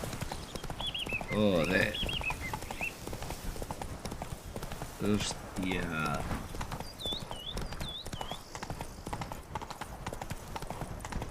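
Horse hooves gallop in a video game: a steady, rapid clip-clop runs throughout beneath music, while a man swears over it.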